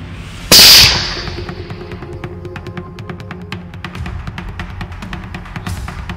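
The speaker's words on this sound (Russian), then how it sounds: "в этот момент охотник сделал точный выстрел" A single sharp, loud hunting rifle gunshot cracks out in the mountains of Tajikistan, followed by a fading rumble and a low, steady outdoor hum.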